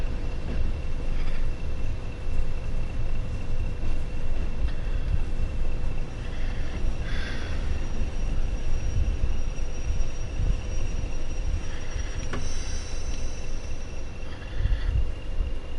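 A Class 47 diesel locomotive rolls past in the Train Sim World 6 game, a steady, loud rumble of engine and rail noise. A faint tonal whine sits over it and brief clanks break through.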